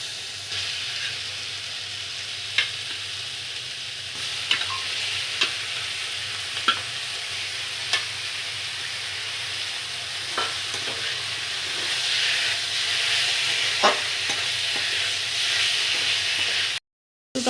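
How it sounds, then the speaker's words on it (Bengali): Spiced chicken pieces sizzle in a hot pan while being stir-fried, a steady close hiss broken every few seconds by sharp spatula scrapes and clacks against the metal, with no talking. "মশলাটা একটু ভালোভাবে কষিয়ে নিয়ে মাংসগুলো দিয়ে দেবো"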